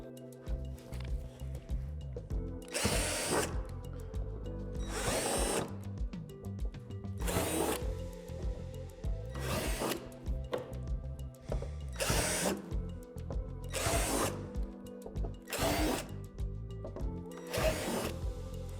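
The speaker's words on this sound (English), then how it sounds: "drill out these 4 holes on both panels with a 3/8 drill bit" A power drill with a 3/8 bit whines in repeated short bursts, about eight of them at steady intervals, each biting through playset panels, with a low hum between.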